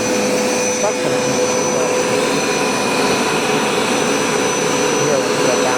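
A Hoover SmartWash automatic carpet cleaner runs with a loud, steady motor whine and suction roar over carpet. The hum is constant and close, and a person talks over it.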